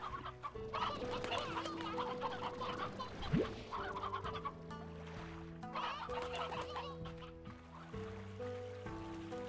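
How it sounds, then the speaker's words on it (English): Several roosters in the Slime Rancher video game clucking repeatedly over a soft background music loop, with short bursts of clucking spaced across the stretch at a moderate, fairly quiet level. "Got several extra roosters."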